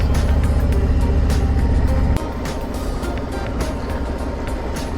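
Loud, steady wind roar buffets the rider of a 2022 Harley-Davidson Road Glide at speed, a dense broadband rush mixed with engine drone that drops a step partway through and then continues unbroken.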